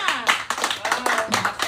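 Clapping from a small audience at a stand-up comedy open mic in a café, quick and uneven hand claps with a roomy, close feel.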